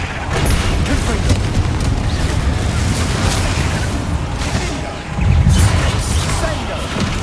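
Rumbling blasts from the Confringo spell in Hogwarts Legacy, a continuous loud wash of crashing explosive noise with a heavier boom near the end, with a voice talking over it.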